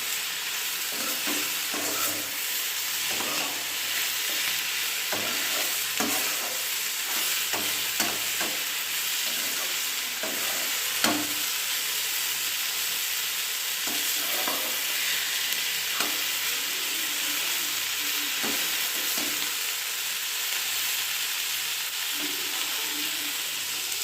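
Soybean chunks frying in a pan for chilli soya, a continuous close sizzle with irregular scraping and stirring knocks throughout, no voices.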